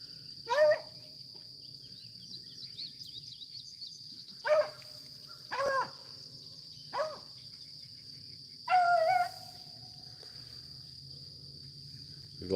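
Beagle hounds bay while chasing a rabbit outdoors, giving short, separate bursts of baying at irregular intervals, fairly distant, over a steady drone of insects.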